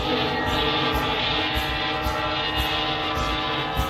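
A train boss in a video game roars with a dense, loud rumbling drone and horn-like tones, steady and close throughout without speech.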